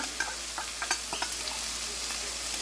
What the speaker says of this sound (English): so we got our peppers cooking, and we're going to add in our garlic here